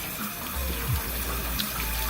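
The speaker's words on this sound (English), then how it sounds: "I'm going to wash my hands." A kitchen tap runs steadily into a sink while hands are washed, a continuous close splash with small shifts in the flow.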